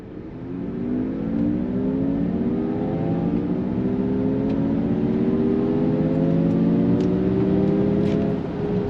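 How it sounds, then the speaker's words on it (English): 2024 Honda Prologue electric SUV accelerating on throttle on a highway, a smooth, steadily rising synthetic drive tone that climbs in pitch over several seconds inside the cabin, with no talk. "we're gonna go on throttle. Listen for that Honda specific sound."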